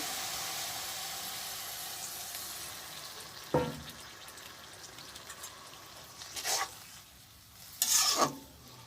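Water poured into a cooking pan of green chillies in a village kitchen: a quiet background sizzle, then three short hissing bursts, the last two loudest.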